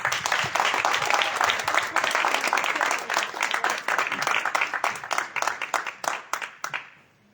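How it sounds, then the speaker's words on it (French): An audience claps for a singer, a dense, lively round of applause that holds steady for several seconds and then thins into scattered claps before stopping. "veuillez applaudir très fort"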